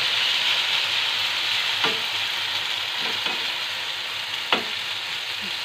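A mixture poured into a hot frying pan sizzles with a loud, steady hiss, punctuated by a few sharp clicks of a utensil against the pan.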